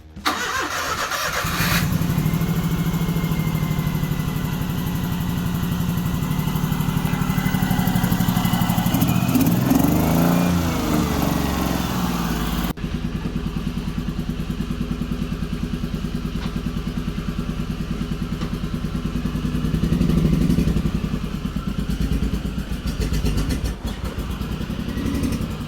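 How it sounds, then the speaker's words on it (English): A replacement car engine, just fitted in a swap, runs at a steady high idle, close and loud, holding an even drone for the whole stretch with a brief shift partway through and no talking. "we just tried to start her up and it's quite a high idle"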